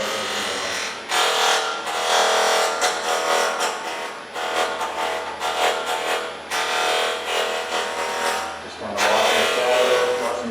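A wood lathe spins at about 2400 RPM while a tool makes a round with an anchor bevel cut, producing a loud, continuous buzzing whine. Bursts of harsher cutting noise rise and fall in repeated passes throughout.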